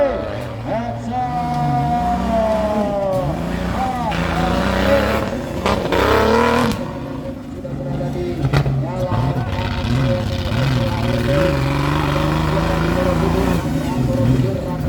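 A Jeep Cherokee 4x4 roars around a dirt off-road racing circuit at a national championship final round in Yogyakarta, Indonesia, its engine revving and shifting loudly and continuously while a commentator talks over the noise.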